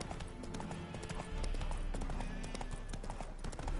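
Hooves clip-clop in a steady trotting rhythm in The Witcher video game, close and clear, over a low ambient rumble.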